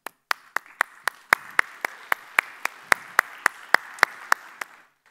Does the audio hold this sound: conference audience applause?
yes